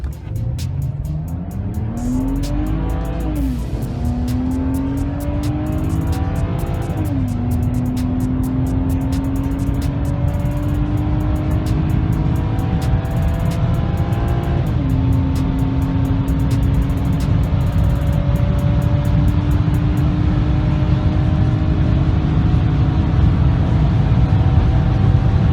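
Nissan Pathfinder pulling hard on the road, its engine note climbing through several gear changes in a long, loud, continuous acceleration with steady road and tyre noise underneath.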